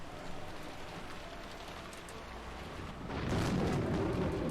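Steady rain hisses in the game Umineko as a dense, continuous wash that swells louder and heavier near the end, with no voices.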